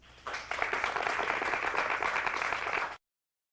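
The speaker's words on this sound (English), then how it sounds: "that was some lovely canned applause there" Canned applause sound effect, a burst of dense clapping that starts suddenly, holds steady for a few seconds and cuts off abruptly into silence.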